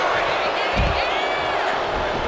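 A wrestling arena crowd roars continuously at full volume, a dense wall of cheering and shouting with a heavy thud from the ring partway through, while a commentator talks over the noise.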